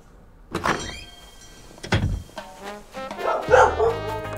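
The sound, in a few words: puppy barking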